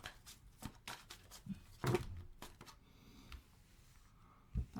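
Tarot cards are shuffled close by in quick, soft riffling bursts with brief pauses, quiet and crisp.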